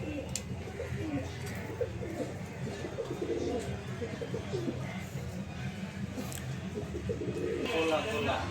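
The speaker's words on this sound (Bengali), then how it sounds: "এখানে এক পেয়ার বাঘা কবুতর আছে" A pair of old-breed Bagha pigeons cooing in soft, repeated low calls, fairly close, over steady background noise with some voices.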